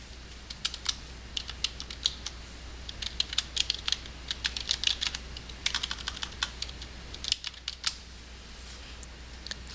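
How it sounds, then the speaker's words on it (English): Search terms are typed on a computer keyboard in quiet bursts of close, crisp key clicks with short pauses between runs, alone and without talk. "type your search terms into the middle of the search screen"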